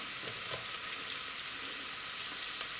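Steady, dense sizzling of onion and flour frying in a pan for mushroom soup, continuous and close, with a faint stir or scrape near the start.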